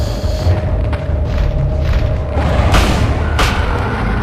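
Heavy shotgun blasts boom out in the Silent Hill video game, a deep low rumble with two sharp bursts standing out near the end, loud and close with no talking.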